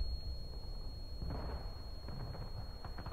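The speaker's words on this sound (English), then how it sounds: "That barrage, though," An artillery barrage in the Civil War video game War of Rights: distant, muffled booms and rumbling impacts rolling in under steady battlefield ambience, with a constant high electronic whine.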